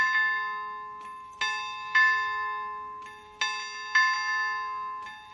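A single bell is struck about six times in an uneven paired rhythm, each clear ringing strike decaying slowly before the next, heard alone against silence.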